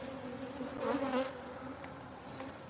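Honeybees buzz around an open hive during honey harvesting, a steady close drone with a brief louder swell as a bee passes near.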